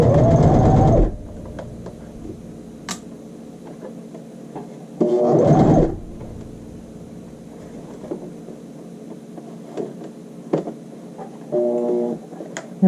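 A home sewing machine runs in three bursts while stitching a child's shirt sleeve: a loud one to begin, another near the middle, and a softer short run at the end, with quiet handling noises between them.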